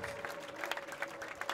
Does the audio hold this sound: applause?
yes